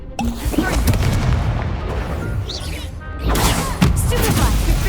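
Confringo blasting spell explosions during a dueling match in the Hogwarts Legacy video game, several sharp booming bursts with crackling debris amid shouted spell names and other game voices.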